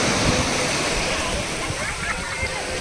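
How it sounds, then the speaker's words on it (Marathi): Sea waves at Kovalam beach in Kerala roar in a steady, loud, broad wash of surf. People talk underneath the noise. "हा बे लाटा बघी."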